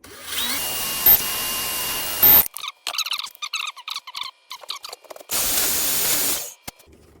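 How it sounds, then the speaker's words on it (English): Power-tool sanding on a brass tube at a workbench comes in two loud, sustained whirring bursts, with a stretch of short, irregular scraping and clicking handwork between them. "so just going to sand it down a little"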